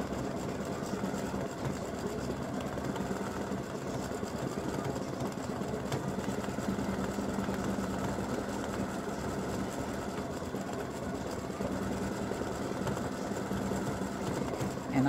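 An embroidery machine stitches a freestanding lace gingerbread house design, giving a steady, continuous mechanical whir and rapid needle chatter that runs unbroken and fairly close throughout.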